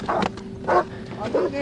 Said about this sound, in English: Quit fighting my dog!